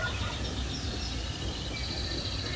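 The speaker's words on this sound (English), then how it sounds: "Listen to the gobbles and the awesome sounds they're making." Wild turkeys in an open field at morning, a few faint distant gobbles and calls rising over steady low outdoor ambience, with no voices nearby.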